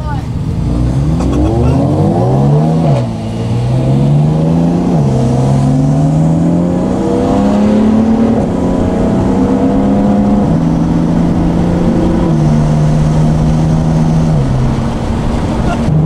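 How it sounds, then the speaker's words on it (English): A BMW M3 F80 stage two car engine revs and accelerates loudly throughout, with rising and falling harmonic sweeps as gears change, mixed with in-cabin road noise and talk. "I'm trying to get Josh and Grayson to race against each other right now."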